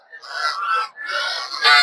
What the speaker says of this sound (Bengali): আপনারা রাজা হাঁস দেখতে পাচ্ছেন